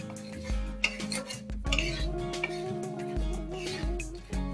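Cornflakes chivda with red chili powder and turmeric is stirred and mixed in a pan, giving close, irregular scraping clinks of a spoon against metal over a steady background hum.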